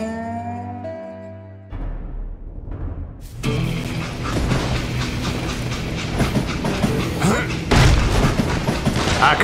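A train rolls along in the Western video game Gunslinger, a loud rumbling clatter of wheels on rails that builds after a brief musical opening and carries occasional heavy booms.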